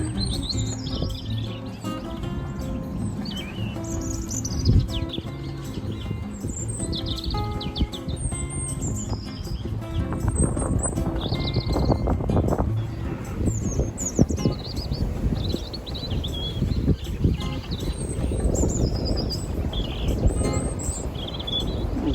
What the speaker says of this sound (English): I honestly didn't realise that robins could sing such a beautiful song.